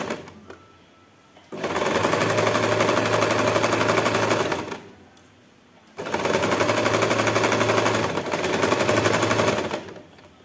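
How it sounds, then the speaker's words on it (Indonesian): A sewing machine stitches fabric for a small patchwork pouch in two loud bursts of rapid, even mechanical rattling, separated by short quiet pauses, close up with no talk. "Kita jahit 1 cm sampai sini."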